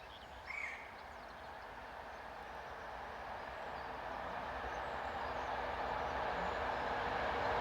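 Train number 427 on a busy European rail line, heard as a steady broadband rumble that swells gradually as it approaches, with one brief higher squeal near the start and no voices.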